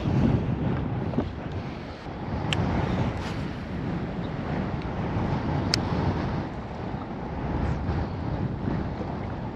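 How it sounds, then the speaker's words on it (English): Strong wind buffets the microphone outdoors on a fishing trip, a steady, loud roar with gusty surges and no talk. "And that wind is something else right now."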